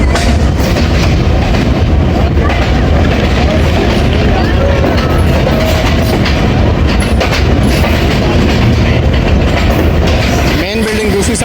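A Subak Kharam passenger railcar rolls through a busy station at Gujar Khan, its loud, steady wheel rumble and clickety-clack filling the scene, with a brief squeal near the end and voices faintly under the noise.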